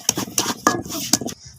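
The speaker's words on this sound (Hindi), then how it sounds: "तो प्याज़ों को भी हमने अच्छे से बारीक कर लिया" A knife taps quickly on a board while onions are chopped fine for raw mango chutney, about six sharp close clicks in an uneven rhythm with no talking.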